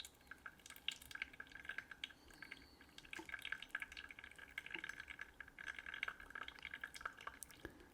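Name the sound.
water slowly poured from gooseneck kettle over tea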